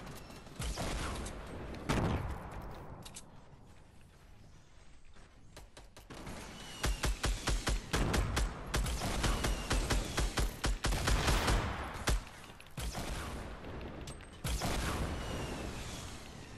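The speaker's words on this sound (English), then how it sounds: "they're shooting me right now." Fortnite Battle Royale gunfire crackles in bursts and rapid volleys during a squad match, loud and close, broken by short pauses and clicking weapon mechanisms.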